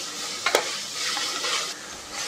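Mint and coriander frying in oil are stirred for a vegetable biryani: a steady close sizzle with scraping stir strokes and a couple of sharp utensil knocks early on.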